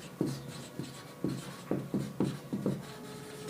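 Marker or chalk writing on a board during a mathematics lecture on relativity, with a series of short scratchy strokes in uneven rhythm, fairly close and moderately loud, no talking.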